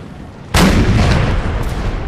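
Cannon fire in the Napoleon: Total War battle game, one loud booming blast that breaks in abruptly and rolls into a long rumbling decay, close and alone.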